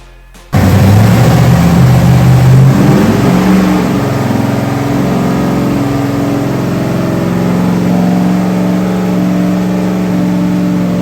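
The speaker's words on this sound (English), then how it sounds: "We're gonna tie a string to the throttle and I'm gonna yank it from inside the car." A 1968 Pontiac Firebird racecar's 301 engine, strapped to a dyno with its throttle yanked by a string, bursts into a loud sustained rev after a brief quiet start and holds a roaring, slowly varying drone.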